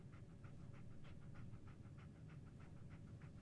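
Dogmeat, the dog companion in Fallout 4, pants steadily and quickly in an even rhythm, faint and close, over a low constant background hum.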